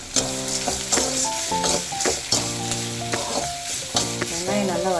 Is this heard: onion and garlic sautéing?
yes